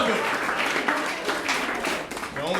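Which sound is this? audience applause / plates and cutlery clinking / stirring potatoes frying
audience applause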